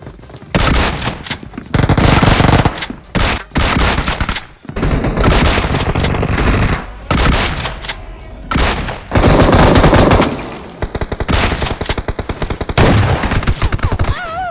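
Gunfire in the mobile battle royale game PUBG Mobile, loud bursts of rapid automatic shots and single cracks in dense clusters separated by short pauses, close and punchy throughout.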